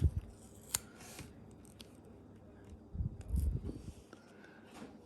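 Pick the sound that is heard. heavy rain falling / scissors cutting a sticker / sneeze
scissors cutting a sticker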